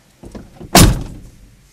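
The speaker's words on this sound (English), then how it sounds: "Close the door." Chevy Suburban car door closing, a soft latch-rattle lead-in followed by a single loud, close solid thunk that decays quickly.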